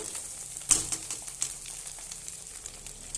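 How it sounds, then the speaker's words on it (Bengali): Soaked flattened rice (chira) goes into a frying pan that already holds fried egg, giving a soft crackling sizzle with one sharp clatter near the start, then a steady low frying hiss. "এই যে এখানে আমি চিড়া ধুয়ে রেখেছিলাম, সেটা এবার আমি দিয়ে দেব"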